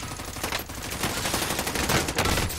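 Sustained automatic gunfire in Call of Duty Warzone, a dense rapid rattle of shots filling the whole stretch at steady loudness, with no talk over it.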